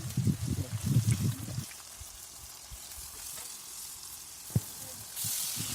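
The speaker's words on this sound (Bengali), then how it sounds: "আমাদের মাংসগুলোকে দিয়ে দিচ্ছি।" Chicken meat dropped into oily spice paste for a village-style desi chicken curry, starting with a bubbly sizzle that settles into a quieter, steady frying hiss with a single sharp knock.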